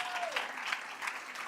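Scattered audience applause at a school sports awards ceremony, fairly faint and distant, with a brief voice at the very start before the clapping carries on steadily.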